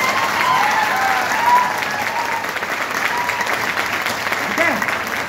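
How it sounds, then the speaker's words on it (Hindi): An audience at a training seminar breaks into sustained, loud applause with clapping throughout, while crowd voices shout and cheer beneath it. "उतना एनर्जी वहां भी आपको चिल्लाना है, हल्ला भी करना है और ताली भी बजाना है।"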